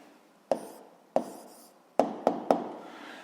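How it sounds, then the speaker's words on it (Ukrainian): Pen writing an answer by hand on paper: five short, close scratchy strokes at an irregular pace in a quiet room, with no voices. "записуємо відповідь, пишемо відповідь"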